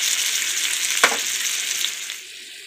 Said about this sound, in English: I'm going to pour in a whole can of tomato sauce